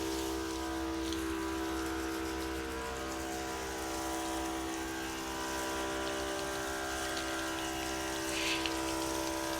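A pressure washer rinsing wooden doors on a house: a loud, steady hiss of spraying water over a constant engine or pump drone, unbroken and close, with no talk.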